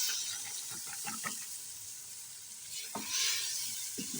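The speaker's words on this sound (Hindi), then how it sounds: "अब हम दाल भून लेंगे।" Soaked chana dal sizzling and frying in spiced oil in a pan, a steady close hiss broken by scraping stirs, with no talking.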